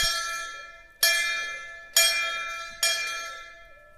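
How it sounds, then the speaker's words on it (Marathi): A temple bell is struck four times at roughly one-second intervals, each clang ringing bright and metallic before fading under the next strike. "चला आता घंटा वाजू मंदिराच्या आपण मस्तपैकी"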